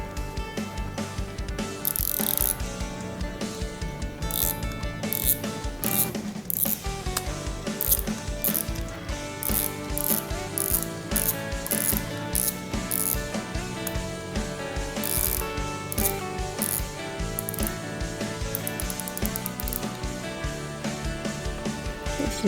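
A Daiwa RX LT 2020 spinning reel is handled close up, its mechanism giving off quick bursts of sharp ratcheting clicks in uneven runs over a steady musical background.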